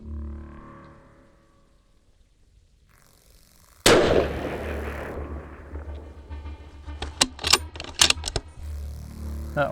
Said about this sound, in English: let's send some rounds downrange